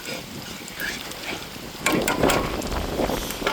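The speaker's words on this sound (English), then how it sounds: "It's kind of windy here today." Gusty wind blowing at an outdoor camp with trees swaying, a steady rushing roar that swells louder partway through, with no voices.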